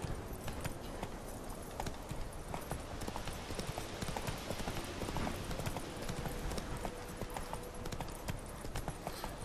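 Hoofbeats of Roach, the horse in The Witcher 3, clip-clopping in a steady, brisk rhythm throughout, fairly loud and continuous with dense game ambience beneath.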